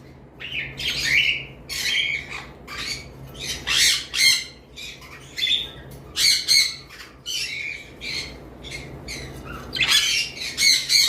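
Loud, close squawks from a large white exhibition English budgerigar in repeated bursts, mixed with sharp chirps and short pauses between calls.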